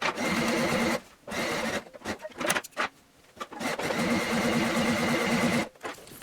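A sewing machine stitches a non-padded fabric pouch cozy bag in several loud, close runs of rapid whirring, broken by short pauses.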